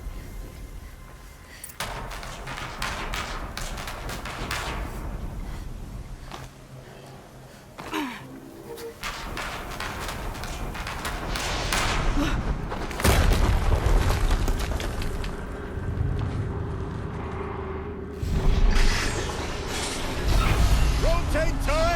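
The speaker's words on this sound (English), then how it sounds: "Another explosion." Explosions and booming impacts from the Horizon Zero Dawn video game, with mechanical clanks and bursts layered throughout, growing louder and denser in the second half.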